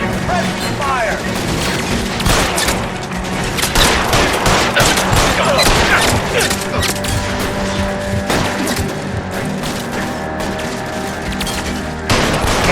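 A loud, continuous fusillade of gunfire in the L.A. Noire video game, with overlapping rapid shots and booms under steady game background noise, and a voice shouting over the opening.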